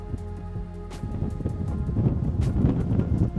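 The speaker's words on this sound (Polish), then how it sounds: "Troszkę wieje, ale nie ma tragedii" Wind gusts across a microphone high in the Mourne Mountains, a low rumbling buffet that grows stronger and rougher over a few seconds, close and fairly loud with no speech.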